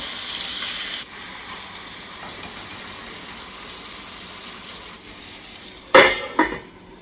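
Meatballs tossed and frying in a pan make a faint steady sizzle, then a couple of sharp clattering scrapes of a utensil against the pan near the end.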